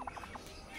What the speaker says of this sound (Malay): Ayam Belanda dia. Nama saintifik Meleagris Gulf